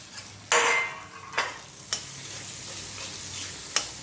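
A spoon scrapes through green chilli thecha in a pan in a few separate, deliberate strokes over a faint sizzle, quiet and close with long pauses between strokes and no talking.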